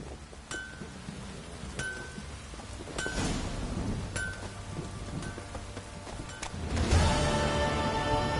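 Steady rain falls in The Witcher 3, a constant hiss of drops on surfaces with low rumbling underneath that swells near the end, and no one speaks.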